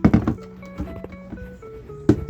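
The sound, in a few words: ginger pieces dropped into blender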